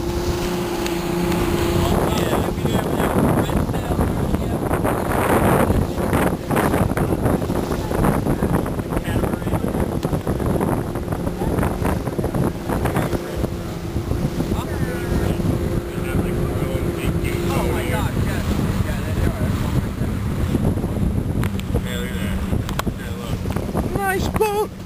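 A motorboat cruises on the open ocean off the Cayman Islands, its engine droning steadily under constant wind buffeting and rushing water, loud and close throughout, with voices talking over it.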